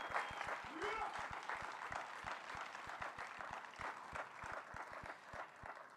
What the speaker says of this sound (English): So a round of applause for this center that's here in our community.